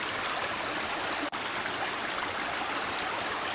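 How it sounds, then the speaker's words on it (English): A small river flows with a steady, close rushing wash that stays even throughout, broken only by a momentary dropout. "But we found a nice little river."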